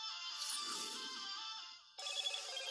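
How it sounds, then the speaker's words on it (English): A phone notification ringtone chimes as a bright, tonal melody that pauses briefly, then starts again, sounding close and clear with no talking over it. "Crap. Notifications."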